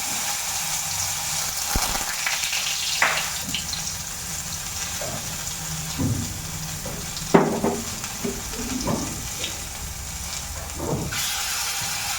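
Bora fritters frying in a pan in a home kitchen, a steady low sizzle with scattered clinks and scrapes of a utensil against the pan throughout.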